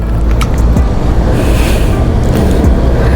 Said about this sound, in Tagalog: Dagat yun guys, dagat.